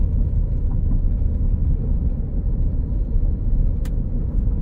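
Lincoln Navigator L Reserve driving with a steady, loud low rumble of road and engine noise, smooth and continuous with a brief faint click near the end and no audible gear-change break.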